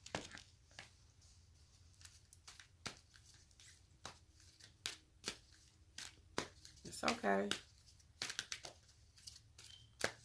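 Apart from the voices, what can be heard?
shuffling a deck of cards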